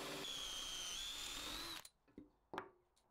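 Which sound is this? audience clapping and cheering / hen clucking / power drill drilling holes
power drill drilling holes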